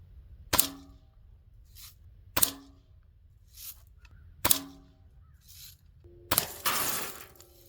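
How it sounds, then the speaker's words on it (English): A Red Ryder BB gun fires four sharp, evenly spaced shots into a screen door glass window, each a crisp crack with a short rattle, the last one shattering the glass with a scattering of falling shards. "that was what, 4 or 5 shots it took to break that glass?"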